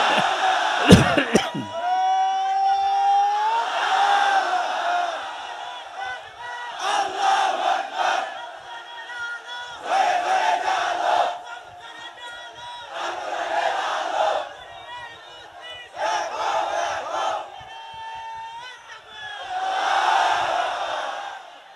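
A large crowd at an Islamic sermon gathering in Ranihati, Chapainawabganj roars 'Allahu Akbar' in answer to a takbir call, repeated loud, reverberant group shouts in regular bursts with short lulls between them.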